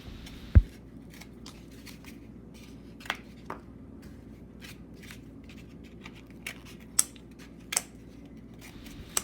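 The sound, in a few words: scissors cutting an egg carton into separate divots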